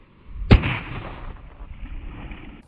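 One sharp, loud firecracker bang goes off nearby on ice, followed by a fading rumble and hiss.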